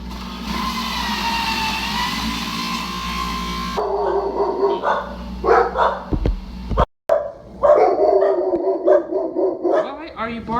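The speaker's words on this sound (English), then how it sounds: "Why are you barking?" A dog barks repeatedly, sharp yips breaking up a stretch of talking after a steady background hum cuts out.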